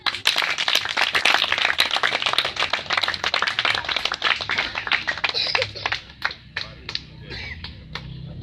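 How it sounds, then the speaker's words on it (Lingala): Children at an orphanage in Kasangulu, Kongo Central, clap together in a fast, dense burst that thins out into scattered single claps trailing off toward the end. "Les enfants, si on peut acclamer."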